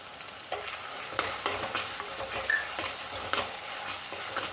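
Onion, garlic and crushed ginger sauté in a hot pan for a Kerala kappa and sardine dish, a close sizzle broken by repeated scraping stirs of a spoon against the pan.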